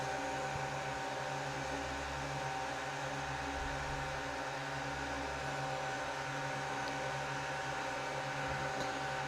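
A DJI Mini 4K drone runs quietly indoors in an apartment, giving a steady, faint whirring hum with a constant motor whine and no talking.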